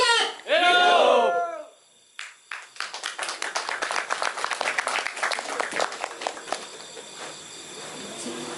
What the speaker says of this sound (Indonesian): berikan tepuk tangan sekali lagi untuk alternatif